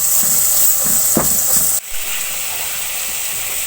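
Garlic paste added to browned onions sizzles loudly in a pan for an aloo matar curry, with a few stirring clinks before the hiss abruptly drops to a softer, steady fry.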